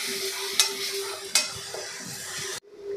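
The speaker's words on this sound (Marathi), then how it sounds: "आणि हलकसं सोनेरी होईपर्यंत परतून घ्यायचं आहे।" Cluster beans (gawar) sautéing in a pan until golden, a continuous bright sizzle with a couple of sharp spatula clacks against the pan, then the frying noise cuts off abruptly near the end.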